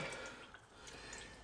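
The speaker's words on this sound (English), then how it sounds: "this is the fun part where the oil likes to splatter out" Engine oil drains from a vehicle during an oil change, a faint liquid trickle with soft splattering drips onto a garage floor, heard alone without speech.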